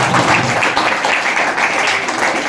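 A crowd of onlookers claps steadily at a certificate ceremony for 82 trained young women, a dense, loud wash of applause sustained from start to finish with no pauses.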